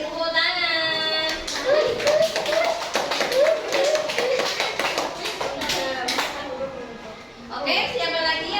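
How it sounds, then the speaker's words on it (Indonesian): A group of second-grade children in a classroom claps in quick, uneven bursts while young voices call out and chatter over the applause. "beri tepuk tangan."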